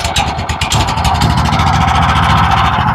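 A small engine on a tractor-free sprayer blower runs loudly and steadily up close, a continuous buzzing drone with a rough pulsing rumble and no breaks.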